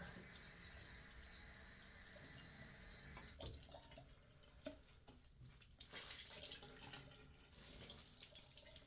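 Running tap water wetting a rag at a sink after a shave, a steady close hiss of flowing water with a few brief splashes and clatters partway through, no talking.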